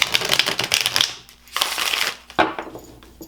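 Tarot cards being shuffled up close, two or three loud riffling bursts of crisp paper flutter with brief pauses between them, with no talking.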